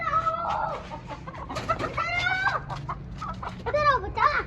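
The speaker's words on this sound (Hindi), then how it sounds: "मुर्गी इधर आओ" A chicken clucks and squawks close by in agitated, rising calls while someone chases it, with voices murmuring in between.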